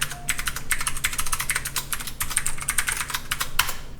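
Fast, steady typing on a computer keyboard while a strong password is entered for a home lab client certificate, with dense, irregular clicks close by and no talking.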